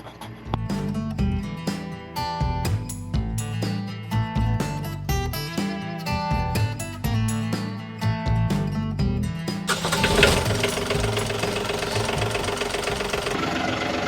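A boat engine sounds close and loud, knocking rhythmically as it runs, then rises into a denser, rougher roar after about ten seconds and keeps running steadily.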